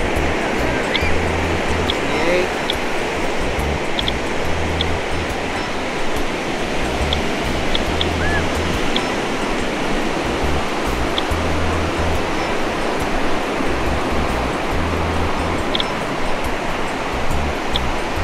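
Ocean waves wash steadily onto a beach, a constant roaring surf hiss with low rumble, close and continuous for the whole stretch with no talking.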